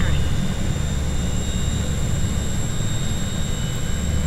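Steady loud drone of HS 748 turboprop engines inside the cockpit in flight, a constant roar with a high whine on top, lasting throughout.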